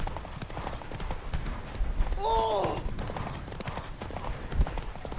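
Roach the horse in The Witcher 3, hooves clip-clopping in a steady gallop rhythm with a short whinny in the middle, under game ambience and a voice.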